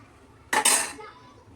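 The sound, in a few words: pouring a bowl of sugar into kheer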